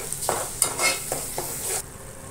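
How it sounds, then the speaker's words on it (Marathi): Ground masala paste frying in hot oil for a fresh karandi fish curry, with several bursts of sizzling and stirring scrapes over a steady hiss, close and moderately loud, no talking. "वाटण केलेलं आहे ना, आता चांगलं तेल सुटेपर्यंत भाजून घ्यायचं"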